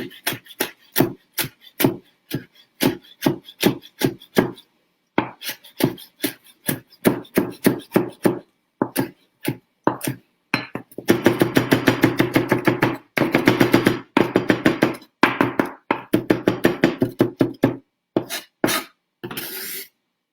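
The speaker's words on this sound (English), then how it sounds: "And just give it a nice fine chop." Knife finely chopping fresh garden basil on a board, a long run of sharp, rapid rhythmic taps in bursts with brief pauses, close and clear, no talking.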